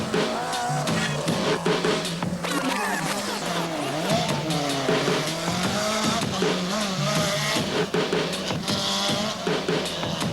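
A BMW M3 rally car in a 1997 mountain rally roars past with loud engine revving and screeching tire squeal, a continuous close, intense pass with no speech.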